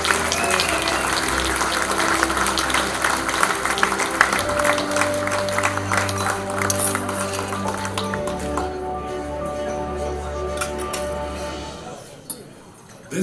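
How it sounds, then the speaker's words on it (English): An audience at a Lions Automobilia Foundation Hall of Fame celebration applauds a 101-year-old man walking onto the stage. Dense, loud clapping with scattered clinks and a steady tonal hum runs for about eight seconds, then fades under background voices. "How about a round of applause when he makes his way up here, too?"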